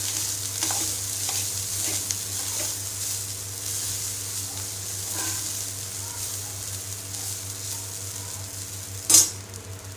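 Rice for pulao is stirred in a hot pan with a steady sizzle and soft scraping strokes at an irregular rhythm, ending in a sharper clank.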